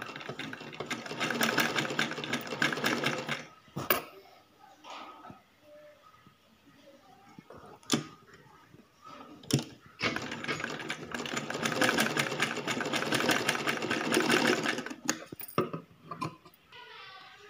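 Sewing machine stitching a blouse lining runs in two long, steady whirring bursts, with a few sharp clicks and knocks between them and quieter pauses where the machine stops.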